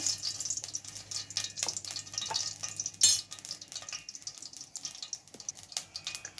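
Lentils and spices frying in oil in a pot for drumstick, brinjal and potato sambar, a soft sizzle broken by repeated stirring clicks and scrapes, close and fairly quiet, with one sharper clatter midway.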